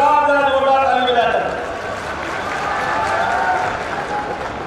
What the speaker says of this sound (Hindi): तालियां बजाओ अपने आज पूरे आयोजन के लिए